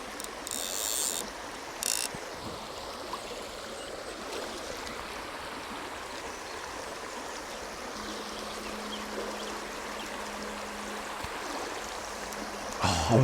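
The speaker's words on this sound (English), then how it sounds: "You can probably hear the water's just picked up. It's only ankle deep, very quick." Fast, shallow stream water only ankle deep rushes steadily throughout, a continuous close wash with no talking, heard while fly fishing a river with dry flies.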